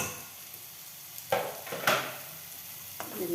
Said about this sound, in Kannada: ಇದೆಲ್ಲ ಸ್ವಲ್ಪ ಫ್ರೈ ಮಾಡ್ತೀನಿ